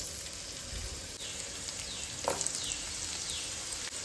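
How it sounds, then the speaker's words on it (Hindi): Sliced onions fry in hot oil for a Goan brinjal dish, giving a steady, soft sizzle that goes on throughout with a brief stirring scrape near the middle, heard alone and at moderate distance. "ओनियन को ना हम हल्का सा ब्राउन होने तक इसमें फ्राई करके लेंगे"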